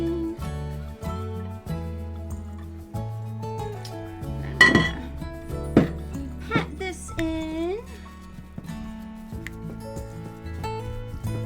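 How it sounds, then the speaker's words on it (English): A spoon stirs vegan meatloaf ingredients in a bowl, producing scattered clinks and scrapes against the dish, with a louder cluster of knocks midway, under a talking voice and soft background music. "I'm gonna mix this all in."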